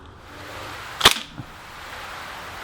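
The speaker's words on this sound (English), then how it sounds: "let's shoot one at right dead center and see what happens" A KWC Mini UZI airsoft gun fires a single BB outdoors in a field test, giving one sharp, close snap that is followed by a faint tap of impact, against quiet background hiss.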